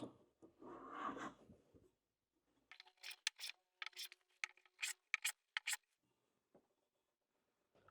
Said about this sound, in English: Okay, you can sand this, get a nice finish.